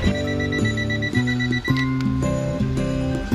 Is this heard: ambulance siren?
no